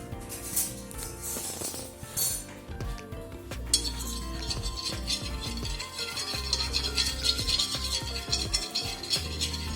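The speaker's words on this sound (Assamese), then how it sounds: "ইয়াতে মই নামমাত্ৰ ৰিফাইন দি চামুচ এখনে গোটেই ট্ৰেখনত সানি ল'ম" A spoon spreading a little refined oil across a cooking tray set over a gas flame, with repeated metallic clinks and scrapes, close and fairly quiet.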